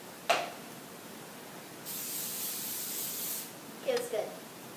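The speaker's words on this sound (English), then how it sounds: "We're using Crisco cooking spray." A can of Crisco cooking spray hisses out in one steady burst of about a second and a half, close and bright, with brief knocks or clicks before and after.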